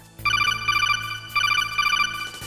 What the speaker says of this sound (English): the sound of a codec call coming in